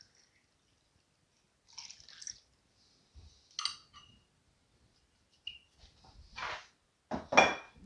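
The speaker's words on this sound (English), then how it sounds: "Give it a little stir, make sure everything gets incorporated well, and that the drink is chilled before I serve it." Ice being stirred in a glass of Old Fashioned bourbon cocktail with sugar and citrus oils, giving a few separate clinking, rattling bursts with pauses between them, close and fairly quiet, with no talking.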